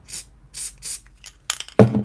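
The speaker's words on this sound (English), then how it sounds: "so I'm going to put a little bit of the spray adhesive here." Short bursts of spray adhesive from an aerosol can, several quick hissing puffs in an uneven rhythm, close and fairly loud, followed by a brief rubbing or handling sound.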